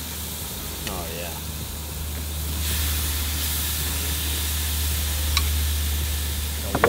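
Teres Major steaks fresh from a soy marinade sizzle on hot grill grates, a steady broadband hiss with occasional sharp pops and a faint voice in the background.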